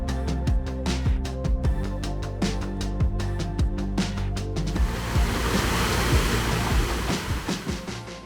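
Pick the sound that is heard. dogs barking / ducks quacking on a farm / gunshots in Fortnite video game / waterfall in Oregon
waterfall in Oregon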